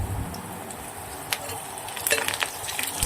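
Curry leaves frying in a hot tempering alongside stuffed bitter gourd, a soft steady sizzle with a few sharper crackles and spatters toward the end, continuous and close.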